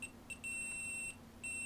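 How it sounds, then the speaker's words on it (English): A multimeter set to continuity mode gives short electronic beeps while probing circuits during a Sega Dreamcast repair: a few brief chirps, then two longer steady tones, clear and close in a quiet room. "it beeps when it detects a circuit"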